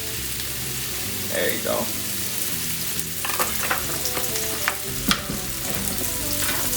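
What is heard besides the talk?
oil sizzling in a hot pan cooking honey garlic mushrooms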